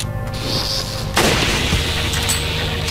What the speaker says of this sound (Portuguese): agora eu vou te meter rifle